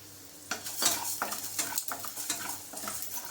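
Coriander seeds roasting in cooking oil in a pan, a soft crackling sizzle under repeated scraping and stirring strokes, close and moderately loud.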